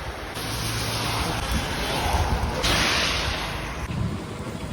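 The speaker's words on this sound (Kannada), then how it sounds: "ಇವಾಗ ಮಳೆ ಬರ್ತಾ ಇದೆ" Steady rain pours down in a dense, hissing wash, loud and close, swelling slightly and then easing toward the end, heard while sheltering at a village temple.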